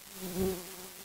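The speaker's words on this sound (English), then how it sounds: "Oh, there's another bee." A bee buzzes briefly near the listener in Minecraft with the ZooCraft mod, a low droning hum that swells and fades within about a second.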